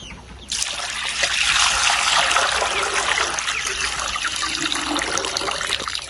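Water is poured out for ducks in a village yard, a steady close splashing trickle that starts abruptly and runs continuously for several seconds before stopping.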